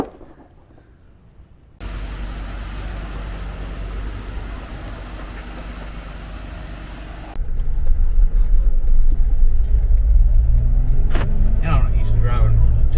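A Jeep Wrangler JKU fitted with Dynatrac axles, Method beadlock wheels and MetalCloak suspension sets off on a test drive, a steady low engine and road rumble that swells louder partway through, with brief clunks and rattles near the end.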